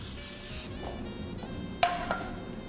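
Baking spray with flour misted generously into a cake pan for a German chocolate cake, a soft hiss at the start followed by a couple of short bursts, fairly quiet in a kitchen.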